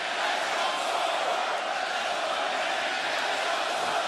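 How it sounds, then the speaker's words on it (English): A capacity wrestling crowd in a Chicago arena roars and chants at a steady level, a dense wall of massed voices filling the hall with no pause. "The fans have picked their favorite. You hear them chanting it."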